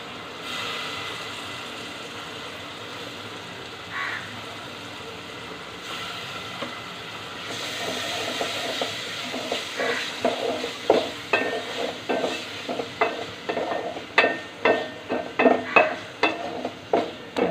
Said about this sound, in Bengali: আমি কিছুক্ষণ মশলার সাথে আলুটাকে কষিয়ে নিব